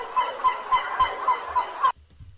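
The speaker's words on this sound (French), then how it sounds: "Une mouette." A recorded seagull cry used as a beat sample: a series of about seven loud, nasal, evenly spaced calls repeating for two seconds, then cutting off abruptly to near silence.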